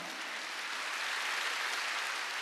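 A church congregation at a Wednesday service claps together in a dense, even wash of applause that holds steady, with no voices, for a couple of seconds.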